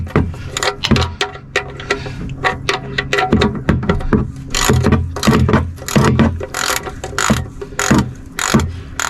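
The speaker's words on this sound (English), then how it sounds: "Put it on until I can't tighten it no more." A ratchet clicks steadily in close, rapid bursts of pawl ticks while a part is tightened down, continuing with brief pauses throughout.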